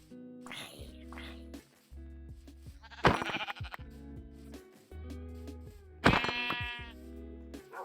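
Sheep bleating in the Minecraft video game, several short wavering bleats at intervals over a low droning background with tonal music, moderately loud and close.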